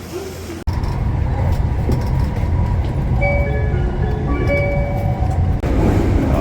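A Japanese train crossing the bridge toward the airport near Osaka, heard from inside as a loud steady rumble of wheels and carriage, with faint whining tones rising and falling mid-run.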